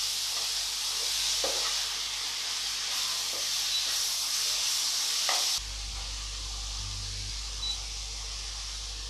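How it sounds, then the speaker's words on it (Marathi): Chopped tomatoes frying in a pan for a Konkani-style karandi tawa fry, a soft steady sizzle and hiss with a few faint stirring scrapes, fairly quiet and without talk. "टोमॅटो पण चांगलं परतून घेऊया."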